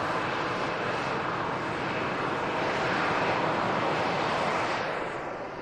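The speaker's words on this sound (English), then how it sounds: "the Hainan A330, I'm sure, will be a loud departure" Hainan Airlines Airbus A330 with Rolls-Royce Trent 700 engines departing Manchester Airport, a steady broad roar of jet engine power at constant loudness throughout, with some wind noise on the microphone and no talking.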